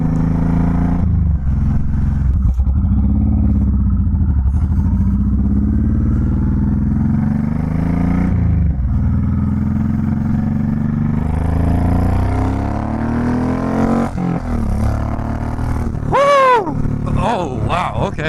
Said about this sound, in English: Dang, this thing actually revs up pretty good.